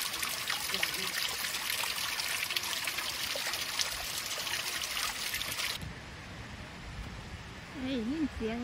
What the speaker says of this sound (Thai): เสียงน้ำตกบ่ค่ะ